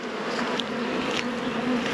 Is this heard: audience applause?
no